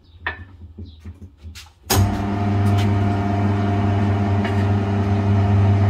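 Tire changer machine worked by a foot pedal starts up abruptly after some scattered clatter and handling noises, then runs with a loud, steady motor hum and whine that continues to the end.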